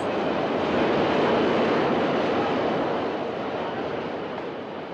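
A subway train rushes past in a continuous, loud, broadband roar that swells and then slowly fades, with no voices over it.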